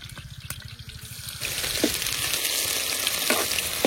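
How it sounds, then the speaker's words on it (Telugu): Chopped onions and split green chillies frying in about 200 ml of hot oil give a steady close sizzle, with a few soft scraping stirs and no talk. "నాకైతే ఉల్లిపాయలు వేగినాయి."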